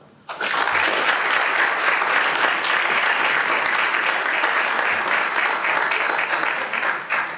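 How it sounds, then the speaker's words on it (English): Audience at a school attendance celebration breaks into loud, sustained applause after a brief quiet start, dense clapping holding steady until the end. "Let's give her a nice round of applause because she's in charge of the money"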